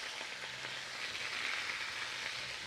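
Chicken browning in a pot for caldo tlalpeño gives a steady, close sizzle of frying, a continuous crackling hiss with no talk over it.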